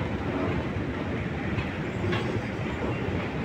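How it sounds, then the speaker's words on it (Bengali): Metro train at a Doha metro station in Qatar, a steady loud rumble of running carriages with soft clickety-clack, continuous and close throughout. "কাতারের মেট্রো রেল স্টেশন"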